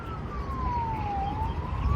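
A single police siren wail sweeps down and back up in pitch, heard at a moderate distance over low background rumble.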